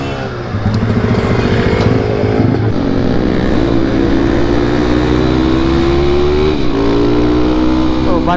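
A motorcycle fitted with unusual wireless-style handlebars revs loudly and steadily up close, its engine note rising and falling across the whole stretch while voices talk over it.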